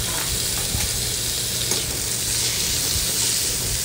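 Tomatoes go into a pan of onion and garlic sautéing for Maharashtrian vangyache bharit, giving a steady close sizzle and frying hiss with a few soft stirring scrapes, no voices.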